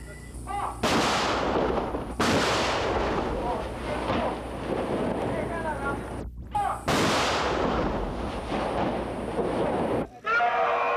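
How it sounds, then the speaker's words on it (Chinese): Heavy gunfire from a Mark19 grenade machine gun and an M41D light tank on a firing range, loud booming blasts and sustained bursts rolling one after another with a brief gap between volleys. "配合着 Mark19 榴弹机枪构成的交叉火网，将200公尺外的目标区打的是一片火光"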